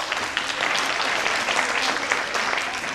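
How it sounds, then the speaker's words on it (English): An audience at a mathematics session claps continuously, a dense, even patter of many hands that stays loud and close throughout. "So, a big round of applause for them."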